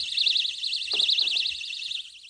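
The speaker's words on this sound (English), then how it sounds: "So if the door is opened, the alarm will go off." A loud electronic door alarm wails continuously in a rapid warbling siren tone, holding steady for about two seconds before stopping, with a few faint thumps underneath.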